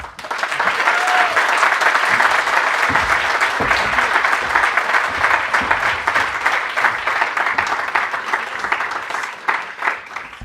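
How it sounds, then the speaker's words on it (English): Loud, sustained audience applause for a guest speaker at a university event in Berlin fills the whole stretch, many hands clapping in a dense steady roar that tapers slightly near the end. "please join me in giving a warm round of applause to our distinguished guest speaker, Mr. Rahul Gandhi"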